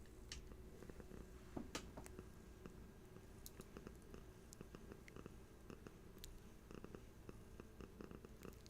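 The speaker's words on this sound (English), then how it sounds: "She's purring again." A cat purrs softly and steadily at close range, a low continuous rumble under faint clicks and small handling noises.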